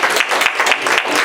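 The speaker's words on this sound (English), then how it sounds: "And I believe they deserve a big round of applause for everything that they have done." Loud, dense applause from an audience at a post-parade thank-you party in a hall, honoring committee members, a steady clatter of many hands throughout.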